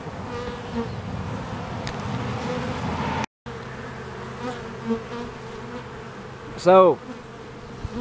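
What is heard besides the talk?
swarm of bees buzzing on a bee beard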